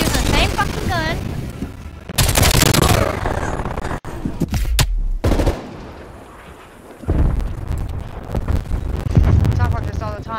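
Video game gunfire: heavy bursts of rapid shots and booming blasts, loud and close, broken by short pauses, with a voice speaking over parts of it.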